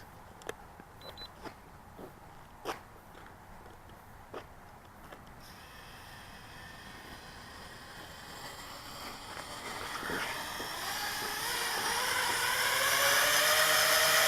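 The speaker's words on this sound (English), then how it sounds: "Yes, you hear all that throttle? Way too much throttle, not enough lift." Model aircraft propeller motors wind up at high throttle during a test flight, starting with a few sharp clicks over quiet background and rising into a loud, climbing electric whine.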